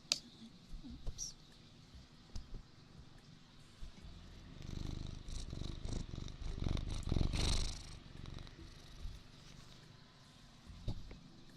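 A cat purrs close by in a soft, low, rumbling rhythm. The purr is faint at first, swells louder through the middle and then fades, with a few small taps around it.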